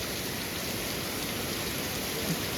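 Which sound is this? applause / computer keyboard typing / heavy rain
heavy rain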